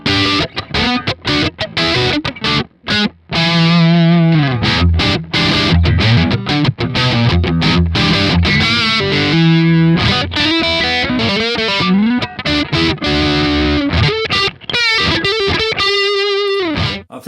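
A Strat electric guitar on its neck pickup is played through a Kemper profile of a Triple Rectified EL34 amp, giving loud, heavily distorted riffs and sustained chords with chugging palm-muted stops throughout, and no talking.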